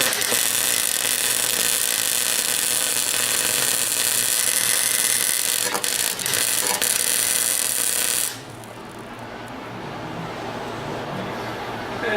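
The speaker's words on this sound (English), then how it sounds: "we got this welder just for exhaust, pretty much primarily for exhaust work" A cheap $100 welder runs on exhaust pipe, giving a loud, steady crackling buzz for about eight seconds with a few brief stutters, then cutting off to leave a quieter background hum.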